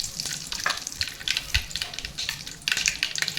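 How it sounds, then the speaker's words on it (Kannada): Cumin, mustard seeds and curry leaves sizzle and crackle in hot oil for a ridge gourd palya, with sharp pops and spattering bursts mixed with stirring noise. "ಜೀರಿಗೆ ಸಾಸಿವೆ ಚೆನ್ನಾಗಿ ಸಿಡಿದ ಮೇಲೆ ಇವಾಗ ಕರಿಬೇವು ಹಾಕ್ಕೋಬೇಕು"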